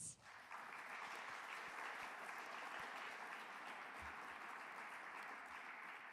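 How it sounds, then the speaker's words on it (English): Audience at a youth innovation competition awards ceremony applauding the finalists, sustained even clapping from a crowd heard at a moderate distance, faint overall. "How about a round of applause for our Cub finalists?"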